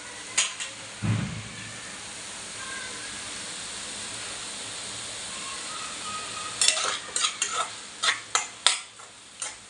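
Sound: tomato, onion and kokum being stir-fried for dried fish chutney

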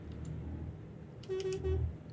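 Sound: bus horn honking in Euro Truck Simulator 2 video game

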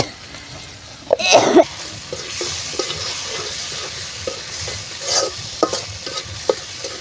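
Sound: spices being stir-fried in a pan

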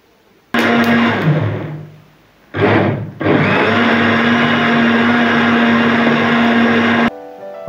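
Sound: blender blending bael fruit with water and mint leaves

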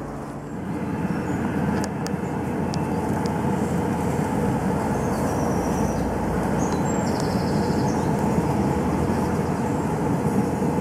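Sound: battery-powered home-made bee vacuum running

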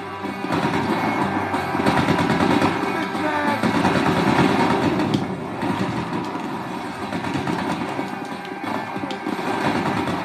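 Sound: sniper gunfire in video game GTA 5

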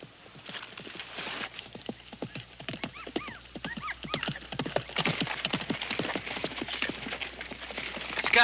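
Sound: horse galloping hooves

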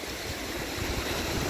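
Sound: sea waves breaking on the shore

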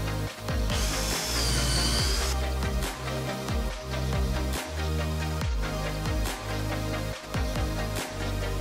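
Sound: drilling four holes in wooden frame

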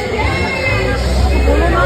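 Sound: crowd hubbub at Vaishno Devi market

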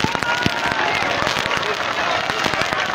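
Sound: crowd applause for Evo Morales

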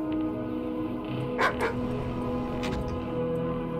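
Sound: big dog barking in video game Doom II MyHouse.WAD

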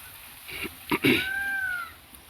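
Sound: peacock calling

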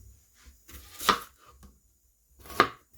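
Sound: chopping onion with a knife

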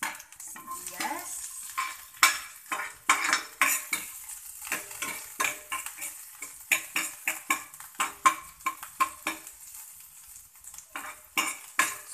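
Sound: onions sautéing in hot oil in a pan

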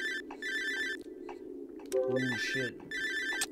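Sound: phone ringing in the video game Cry of Fear

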